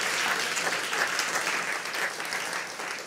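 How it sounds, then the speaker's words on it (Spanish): A church audience applauds steadily, a dense even wash of clapping that holds at constant loudness throughout. "vamos a aplaudir eso"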